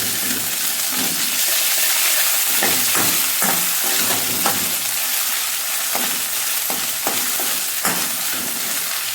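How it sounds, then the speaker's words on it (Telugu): Onion, chilli and ginger garlic paste fry in a pan for poha, giving a steady close sizzle with repeated scraping and stirring clicks from a spoon throughout. "జింజర్ గార్లిక్ పేస్ట్ కొంచెం, జస్ట్ ఫర్ టేస్ట్. ఓకే, కొంచెం వేసుకొని మంచిగా కలిపేసుకున్నాం."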